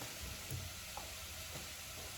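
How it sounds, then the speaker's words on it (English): Onions fry in a pan with a steady, quiet broadband sizzle throughout, plus a couple of faint stirring scrapes, close by and without talk, during plant-based gluten-free batch cooking. "Right, my onions are cooking."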